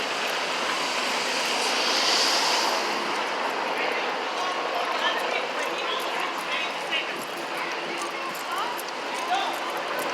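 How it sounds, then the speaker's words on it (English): Multiple helicopters flying overhead during a street march, a continuous rotor and engine drone in the distance that swells slightly and then holds steady beneath faint crowd and street noise. "And you see there's helicopters up in the air, multiple helicopters."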